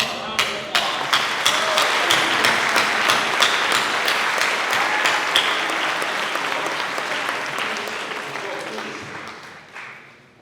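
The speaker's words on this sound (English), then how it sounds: "One more round of applause." An audience at a gala dinner breaks into loud, sustained applause, a dense wash of clapping that slowly fades out toward the end.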